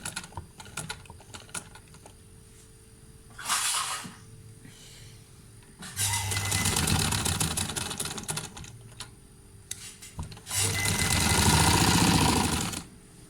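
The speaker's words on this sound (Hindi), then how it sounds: "इसके किनारे पे सिलाई लगानी है हमने, और स्टार्ट और एंड पक्का करेंगे, डबल वहाँ से सिलाई कर देंगे।" A sewing machine stitches a trouser seam in three bursts: a short run, then two longer steady runs with quiet pauses and soft handling noises between them. No one speaks.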